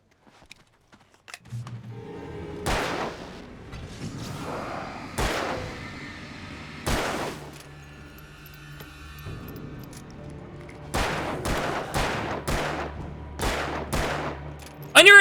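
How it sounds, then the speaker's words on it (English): Gunfire from a handgun in the video game Alan Wake: sharp, loud shots spaced irregularly at first, then a quick run of rapid shots near the end, over a low steady game background. "Shoot him! It's a gun! You pull the trigger, it shoots bullets!"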